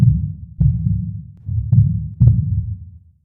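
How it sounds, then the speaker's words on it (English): Synthetic heartbeat effect from a game ability in a Unity project: deep, loud thumping beats in quick pairs, repeating about three times, alone with no talk. "So you hear this heartbeat sound."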